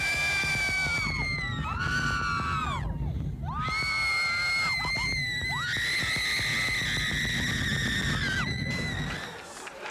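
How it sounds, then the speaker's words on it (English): A concert audience at a show screams continuously and loudly in sustained high-pitched waves, with cheering swelling and easing over a steady crowd roar. "Those screams sound wonderful."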